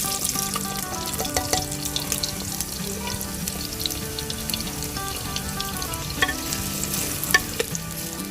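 Chopped onions frying in hot oil for a khara masala qeema, a loud, steady sizzle with stirring clatter and faint background music throughout.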